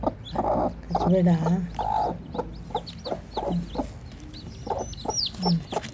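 A country hen clucks repeatedly over her newly hatched chicks, with close, irregular clucks and sharp high chick peeps scattered across the whole stretch.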